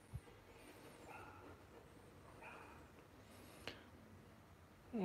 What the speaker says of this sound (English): So many dogs barking today.